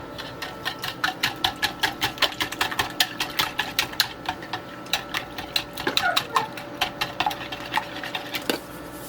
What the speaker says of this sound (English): I have 5 eggs here. This would be good for 2 omelets. I'm going to give them a whisk.